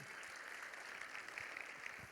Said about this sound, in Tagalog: Lakasan nyo naman yung palakpak para kay Lord